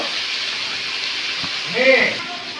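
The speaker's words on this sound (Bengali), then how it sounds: "কাকি একটু নাড়িয়ে চাড়িয়ে নিচ্ছে কারণ না নাড়ালে নিজের মশলাটা আর কি লেগে যাবে কড়াইয়ের সাথে" Tomato and spices fry in a wok as they are stirred, making a soft, continuous sizzling hiss with a few scraping stirs while a person talks over it.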